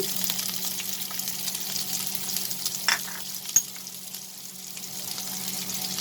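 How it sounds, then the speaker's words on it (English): Onion goes into hot oil with garlic in a pan, making a steady, close frying sizzle throughout, with a couple of brief clinks partway through. "Then we are going to add the onion."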